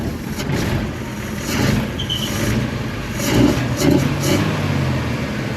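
An old Bedford truck engine revs and surges while driving, rising and falling in pitch with rumbling low-end noise throughout, fairly loud and close.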